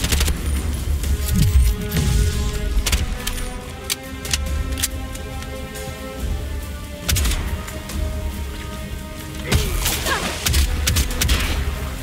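A grenade goes off in Bright Memory Infinite amid rapid game gunfire, a heavy boom standing out among repeated sharp shots and clicks, with several loud bursts spread through the scene.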